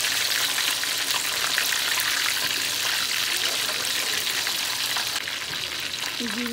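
Fish pakora frying in hot oil: a steady, close, bright sizzle with crackling and bubbling that holds throughout, with faint stirring and a brief voice near the end.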